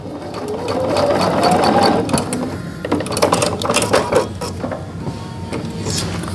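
A sewing machine stitches across an economy quilt block, its needle motor whirring in a steady, close mechanical rattle that speeds and slows slightly, with no talking.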